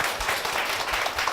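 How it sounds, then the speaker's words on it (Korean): A church congregation claps together during a service, a brief, even burst of mid-volume applause with no pause in the clapping. "응답하신 하나님께 영광의 박수."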